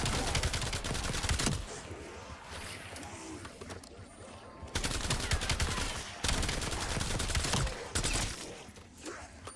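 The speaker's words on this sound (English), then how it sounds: "I like shooting zombies with pack-and-punch weapons" Rapid bursts of video-game gunfire cut down zombies in Black Ops 7 Zombies, played on PC with pack-a-punch weapons. The shots come in loud, dense stretches separated by a brief quieter gap.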